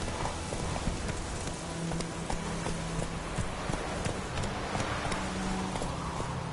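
Roach the horse trots in The Witcher 3 video game, hooves clip-clopping in a fast steady rhythm throughout, fairly close and mixed with outdoor game ambience.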